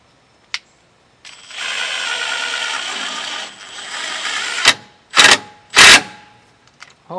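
A hammer drill whirs for a few seconds, then hammers in several short, loud bursts close by as it drives a screw into masonry, with clicks before and after.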